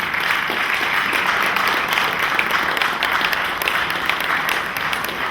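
Audience applause at a surprise fiftieth-birthday church celebration: a steady, dense wash of many hands clapping continuously for several seconds, fairly loud and even with no voices over it.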